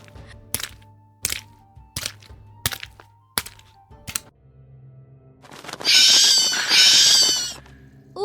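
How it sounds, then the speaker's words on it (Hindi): A series of sharp cracking knocks, then a loud, harsh screeching call from an owl at night, close by and alone with no talk. "अरे नहीं भैया, वो उल्लू है।"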